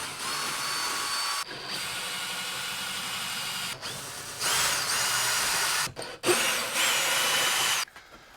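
A power tool drives out the bolts holding a roof air conditioner unit on a 2018 Wildwood RV, whirring steadily in long bursts with short pauses between them and a brief clatter near the end.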